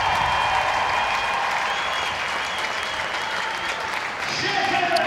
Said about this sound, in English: The Steelers crowd salute their captain.